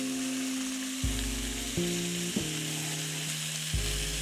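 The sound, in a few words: butter sizzling in hot pan after searing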